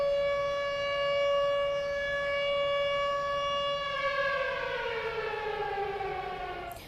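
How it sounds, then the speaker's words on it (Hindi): Air raid sirens wail over Tel Aviv during an Iranian missile attack on Israel, a loud sustained tone that rises and holds with rich harmonics, sounding alone without any voices. "तेल अवीव में फिर से सायरन बजे हैं"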